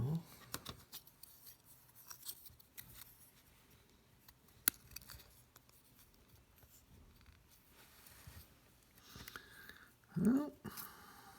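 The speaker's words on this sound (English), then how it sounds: "Just doing this freehand here with some scissors" Scissors snip freehand through a Lexan lens sheet for a Drake TR7 radio, making faint, intermittent cutting and rubbing sounds in a quiet room, with a sharper snip near the end.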